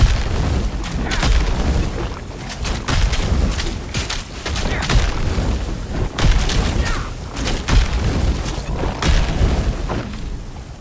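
Lava fissure attacks in Titan Quest 2 erupt in a dense, continuous barrage of booming fire and explosions, with thuds and crackling blasts piling up loudly and without pause for the whole stretch.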